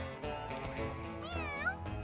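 A cartoon cat meows with a rising, wavering cry amid busy music and effects in the Mewgenics video game, with no talk over it.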